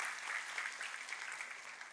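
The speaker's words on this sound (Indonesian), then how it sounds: "Tepuk tangannya yang paling meriah buat Tuhan kita" A church congregation claps in steady, sustained applause during a worship service, a dense even patter of many hands with no voices on top.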